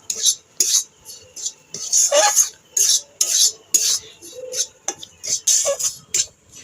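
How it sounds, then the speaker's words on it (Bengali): Semolina and half a cup of flour being dry-roasted in a pan for Bengali nikuti sweets, heard as repeated scraping and stirring strokes of a utensil against the pan in a steady rhythm, close and moderately loud. "সুজি আর ময়দাটা ভালো মতো ভেজে নিয়েছি।"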